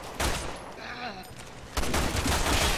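Enemy machine gun fire from Resident Evil 6, loud dense bursts of gameplay gunfire that ease briefly mid-clip and then return hard, with game effects and a voice underneath.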